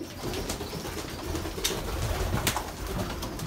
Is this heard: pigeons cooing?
yes